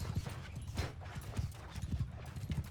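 Cavalry horses galloping in Bannerlord, a quick rhythmic clip-clop of hooves on the ground close by, repeated beats over about three seconds with no talk.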